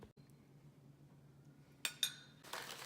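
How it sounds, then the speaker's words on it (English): A spoon serves heated sauce over zucchini cheese ravioli, making two light metallic clinks close together, then a brief soft scrape in an otherwise quiet room. "Spoon it over the ravioli."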